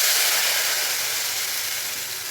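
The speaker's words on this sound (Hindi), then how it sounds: "हमारा तड़का भी रेडी हो गया है और हम डालने वाले हैं अपना कढ़ी मतलब दही वाला और बेसन का बैटर।" Kadhi batter of curd and gram flour hits a hot tadka, a loud broad sizzling hiss that fades slightly as it settles, with no talking.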